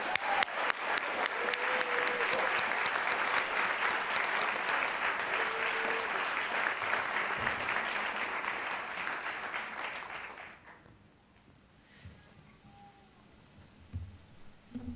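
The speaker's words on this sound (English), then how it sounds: "Please join me in one final heartfelt round of applause for our Educators of the Year." Audience applause at an Educators of the Year 2025 celebration, a loud, dense round of clapping that holds steady for about ten seconds, then stops abruptly into a quiet room with a few faint stray sounds.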